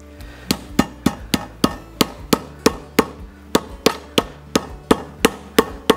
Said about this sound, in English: we're gonna take the flat side of the meat tenderizer and just lightly smack them